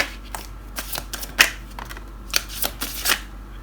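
Tarot cards being shuffled by hand: soft, irregular riffling and sliding bursts come up close over a faint steady hum, with no talking.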